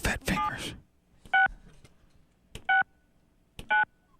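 Telephone keypad tones sound in three short, separate beeps after a burst of speech at the start, as a number is dialed during a morning radio call-in bit.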